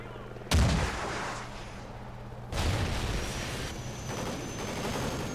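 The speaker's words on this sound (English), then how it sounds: "Oh, almost killed ourselves with our damn rocket." Two heavy blasts from a laser-guided rocket in a Call of Duty: Ghosts campaign mission, the first sharp and loud, the second a little later and rumbling longer, both set against steady battlefield background noise.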